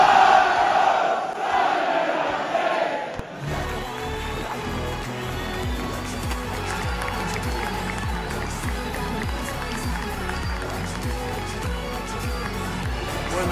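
Football crowd gathering outside Scunthorpe United's stadium before a delayed kick-off against Barnet: a dense, steady murmur of many voices with some shouting, after a brief louder open-air moment at the start.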